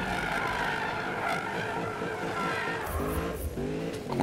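A car drifts in the Need for Speed racing game, its engine droning loudly and steadily while tires squeal in rising and falling pitches toward the end, with no voices.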